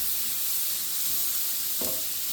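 Garlic cooks in butter sauce in a pan with a steady, even sizzle and a faint clink partway through.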